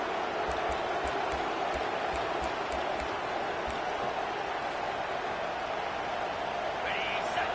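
A stadium crowd in the college football video game NCAA 25 gives off a steady, dense roar that fills the whole stretch, with a voice talking over it.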